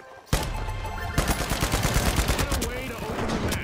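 Rapid automatic gunfire in a video game, dense close bursts that crack in quick succession after a short quiet start and keep going without pause, with faint voices underneath.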